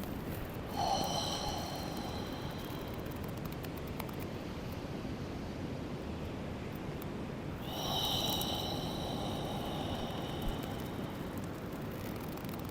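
Deep, slow breathing during a guided qigong exercise, a long airy inhale and exhale heard twice, close and steady, with no talking.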